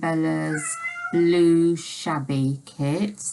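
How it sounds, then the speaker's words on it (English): A house cat meows several times indoors, short rising and falling cries heard close by and mixed in with a person talking. "sorry if you can hear the cat in the background."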